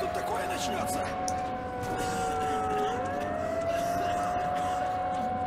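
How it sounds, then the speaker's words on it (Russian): Sirens wail in the video game Metro: Last Light Redux, several long sliding tones rising and falling over a dense rumbling background, continuous and moderately loud. "сирены гудят, конечно"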